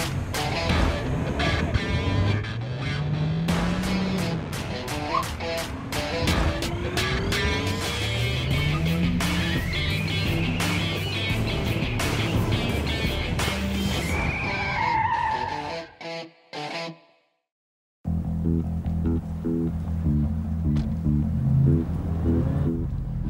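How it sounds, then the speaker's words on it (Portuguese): Two Chevrolet Cruze cars perform driving stunts, engines revving and tires squealing in long skids over loud, continuous motor noise, then a sudden cut to near silence before a steady engine drone returns. "Vou terminar o programa com as duas dando um showzinho de cruze para vocês"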